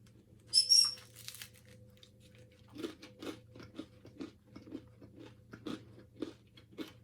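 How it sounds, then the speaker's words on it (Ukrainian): Biting into a crunchy homemade baguette gives a run of close, crisp crunches in a steady chewing rhythm, after a brief high whistle-like squeak near the start. "Хрумкі, дуже хрумкі."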